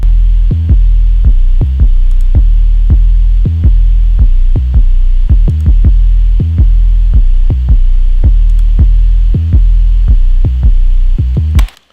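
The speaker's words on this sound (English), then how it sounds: "I hear that 808 from my stereo field kind of suck in a little bit and come right in the middle" A deep 808 bass loop switched back and forth between stereo and mono by an imager plugin: booming sub-bass hits in a steady rhythmic pattern with a sustained low hum under them, loud and close, cutting off abruptly at the end.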